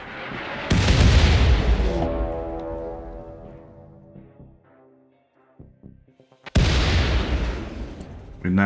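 Turrets in RimWorld open fire in a loud burst of booming gunfire, a ringing decay trailing away into near silence, then a few scattered pops before another heavy volley erupts.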